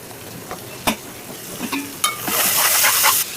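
Drumsticks and potatoes are dropped into a hot pan with a few clanks and taps, then a loud hissing sizzle bursts up and holds steady before cutting off abruptly.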